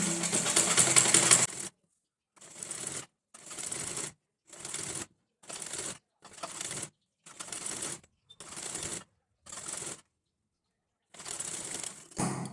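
A sewing machine stitches the hem of a blouse, folded a quarter inch, in short whirring bursts of about a second each, separated by brief pauses, after a longer opening run.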